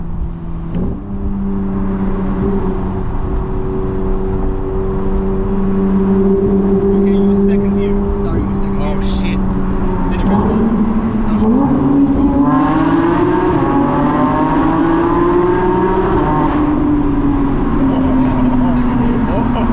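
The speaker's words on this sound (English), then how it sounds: "That crack on that upshift was so good." A Porsche GT3 engine drones steadily at high revs, then pitch drops with a crack on the upshift and climbs again, heard from inside the car.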